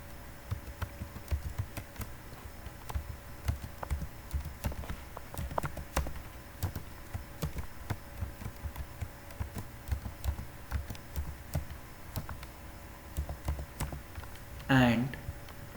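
Keys tapped at a steady, rapid pace on a computer keyboard while a password is entered, soft clicks close by with faint room noise and a brief bump near the end.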